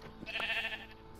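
A sheep in the Minecraft video game lets out a single short, nasal bleat, faint and alone over quiet background.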